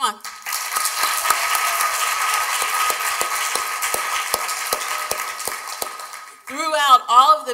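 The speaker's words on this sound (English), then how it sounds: "give them a really big hand of applause" An audience claps in sustained applause for a table of foster care students heading to college, lasting about six seconds before a voice begins speaking.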